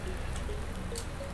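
Rain falls in Landwirtschafts-Simulator 19 on a farm with cows, a steady soft patter of drops with no voices over it.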